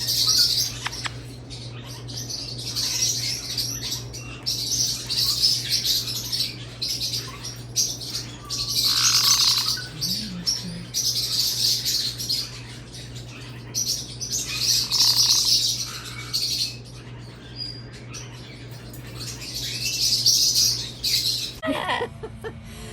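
Caique parrots chirp and squawk in repeated shrill bursts over a steady low hum, fairly close, with brief pauses between calls.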